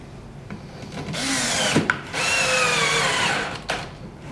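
A cordless driver sets screws into a cabinet during assembly, with loud, steady whirring bursts of a second or so each, broken by short pauses and a few clicks, close and with no talking.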